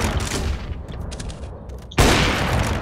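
A flashbang grenade goes off in a Counter-Strike-style match on the Cache map: steady gunfire and game noise, then a sudden loud broadband bang that holds as a sustained blast to the end.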